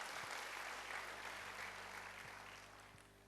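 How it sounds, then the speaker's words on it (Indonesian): A church congregation applauding together, a broad steady wash of clapping that fades slightly toward the end, with no talk over it. "berikan tepuk tangan bagi Tuhan"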